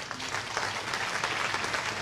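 Audience applauding at a medical conference on enhanced recovery after cardiac surgery in Marseille, a steady dense wash of clapping from a seated crowd filling the whole stretch at moderate level.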